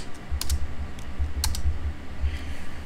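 Keys on a computer keyboard clack in quick irregular bursts as Python code is typed, close and moderately loud over a steady low hum with no speech.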